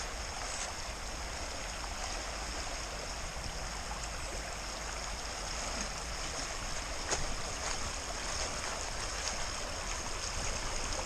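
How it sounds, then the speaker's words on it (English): A creek flowing into a Pacific Northwest camping area gives a steady, even rush of running water, close and continuous throughout with no talking. "You even got a creek coming in right there."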